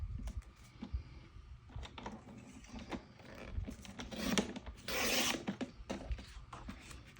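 A paper trimmer slices through a sheet of CTMH Cosette patterned paper, a close, dry scraping rasp running through the middle of the stretch amid light handling and rustling.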